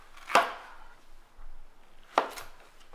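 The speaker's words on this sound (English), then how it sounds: "So here with this squash, what I'm doing is just quartering it up" Two separate knife chops through a yellow squash on a cutting board, each a sharp crisp knock about two seconds apart, close and fairly quiet, with no talking.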